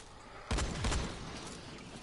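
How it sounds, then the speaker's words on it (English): A combat shotgun fires semi-automatically in the Dying Light video game, with two quick booming blasts in close succession over a steady, muffled game background. "the combat shotgun I find is a lot better for these guys because you can keep firing semi-auto"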